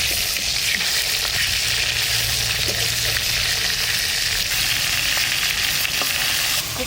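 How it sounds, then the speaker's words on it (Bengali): Fish pieces fry in mustard oil in a pan, making a loud, continuous hiss of sizzling with faint stirring noises beneath, steady from start to finish. "মাছ কয়টা ভাজবো, তেল দিয়ে দিচ্ছি, সরষের তেল। অল্প অল্প করে ভেজে নেবো মাছটা।"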